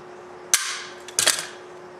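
A hand rivet gun sets a rivet on a Porsche 914 throttle positioner: two sharp, close metallic snaps about three-quarters of a second apart, each with a brief rattling tail, over a quiet steady hum.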